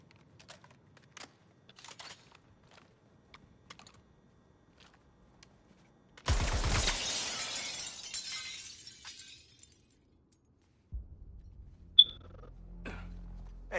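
Glass smashing in the Suicide Squad video game, a sudden loud crash with a bright scattering tail after a run of faint clicks and taps, followed by low rumbling and a single sharp ping.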